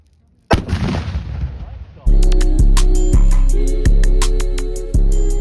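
Gunfire at a U.S. Air Force security forces range: one loud crack with a ringing tail, then a string of sharp, evenly spaced shots, close and very loud, with no talking.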